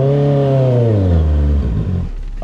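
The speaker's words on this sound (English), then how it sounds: "I love an excuse to obnoxiously rev the CBR 650R" Honda CBR 650R motorcycle with an unbaffled exhaust revving hard in a residential area, one loud close rev rising and falling away with a crackly tail.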